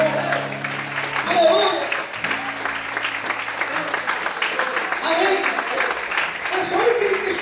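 A church congregation claps steadily throughout, with a pastor's voice speaking over the applause at times.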